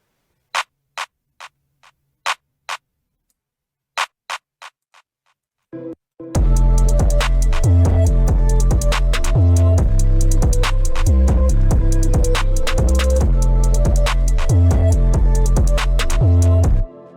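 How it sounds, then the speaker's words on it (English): Several sharp, isolated taps with silence between them, then a dense wall of the same sound repeating over and over through a delay effect in FL Studio, echoing continuously until it cuts off. "it's going to delay the sound and play it over and over again"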